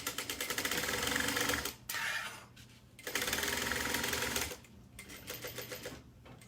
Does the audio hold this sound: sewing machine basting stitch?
yes